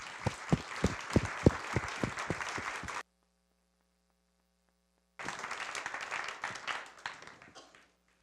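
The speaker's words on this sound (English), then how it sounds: "Can we give her a round of applause?" Church congregation applauding after a closing song, dense clapping with a few sharper nearby claps for about three seconds, then silence, then another steady round of applause that tapers off.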